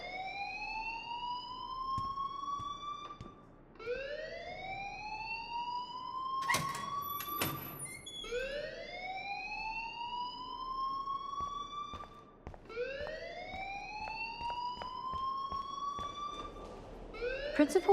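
A whooping alarm in the video game Life Is Strange sounds continuously: loud rising electronic sweeps repeat about every four seconds, four cycles in all, with no voices over it.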